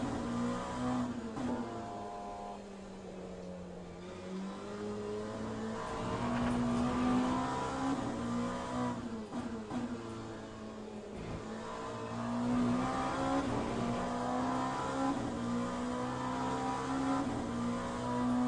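An LMP2 prototype race car engine in the Le Mans Ultimate sim racing game, in a multiclass sprint race, drones steadily throughout. Its pitch rises and falls through gear changes and revs, with no talking.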